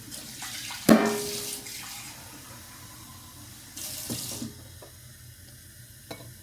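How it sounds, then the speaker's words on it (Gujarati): Water poured from a tap into a pan of curry masala with red chilli powder, cumin and turmeric, a brief splashing burst followed by softer running water and stirring, close and alone without talk. "પાણી નાખીને મિક્સ કરી નાખીએ"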